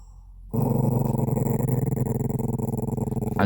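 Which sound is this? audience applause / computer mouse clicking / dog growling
dog growling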